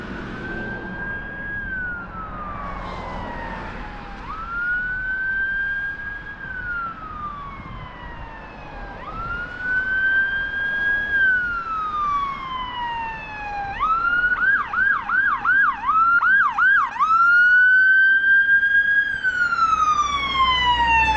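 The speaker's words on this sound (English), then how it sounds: "comes a ambulance." An ambulance siren passing along a street, its wailing tone rising and falling repeatedly, then switching to a faster yelp pattern as it grows louder and closer.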